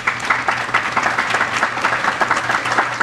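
An audience applauds at a hospital ribbon-cutting ceremony, a steady, dense patter of many hands clapping close by for a few seconds.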